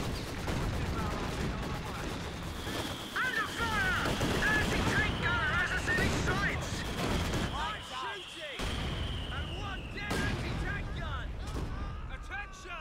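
Artillery bombardment in the video game Company of Heroes 2 on a forest map, a busy battlefield of repeated gunfire and heavy distant blasts, with chirpy unit voices and other battle noise woven throughout.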